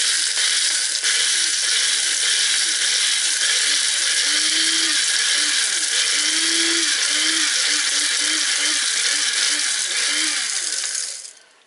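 Electric grinder whizzing dried flowers and shell grit into powder, a loud, steady high-pitched whine with rattling pulses of the contents, running alone for about eleven seconds before cutting off.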